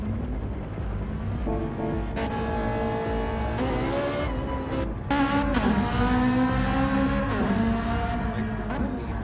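Ferrari race car in the Gran Turismo video game, a loud high-revving engine that climbs through the gears in repeated rising whines with sharp shift breaks, building to a stronger roar near the end.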